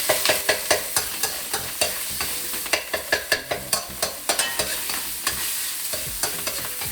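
Minced meat frying in an oiled wok for mapo tofu, with a busy sizzle and repeated sharp scraping strokes of a spatula stirring and pressing the meat, loud and close, no talking.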